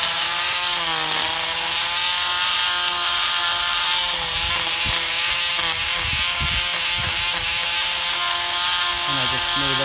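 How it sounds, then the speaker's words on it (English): A multi-tool with a diamond bit grinds calcium spots off swimming pool plaster, giving a continuous high whining buzz with a harsh abrasive rasp that runs close and loud the whole time. "I have a multi-tool with a diamond bit. I just come over it."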